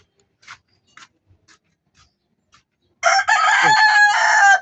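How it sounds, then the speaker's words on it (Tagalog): A native rooster crows loudly and close by, one long drawn-out cock-a-doodle-doo after a few faint scattered clucks and small sounds. "Naingay na naman yung manok."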